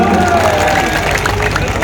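A crowd at a political rally in Nadapuram breaks into applause and cheering, a dense, loud wash of clapping with voices mixed in.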